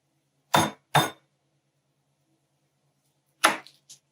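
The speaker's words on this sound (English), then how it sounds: "You smash it down. This is an easy way to peel garlic if you smash it first." Garlic cloves smashed flat on a kitchen board to loosen the peel, heard as two sharp close knocks, a pause, then another hard knock with a lighter follow-up tap.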